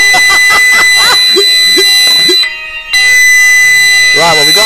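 A very loud fire alarm rings beside a smoker cooking barbecue beef long ribs, a sustained piercing tone that drops out briefly and returns, close and overpowering, while people speak over it.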